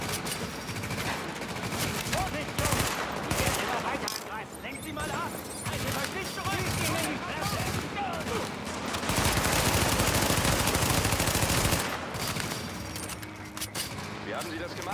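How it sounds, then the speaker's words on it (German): Dense, sustained automatic gunfire from a shooter game rattles through a firefight, bursts overlapping with steady loud intensity and scattered impacts, while players talk over it. "Schießen wir den mal ein bisschen."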